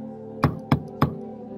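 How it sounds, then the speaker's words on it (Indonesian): Three evenly spaced knocks on a door, close and distinct, each a short hollow thud with quiet pauses between. "tiba-tiba mendengar suara pintu diketok."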